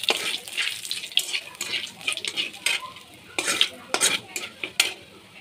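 Bay leaf and black cumin frying in hot oil, a crackling sizzle with repeated clinks and scrapes of a utensil against the pan.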